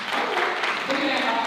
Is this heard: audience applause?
yes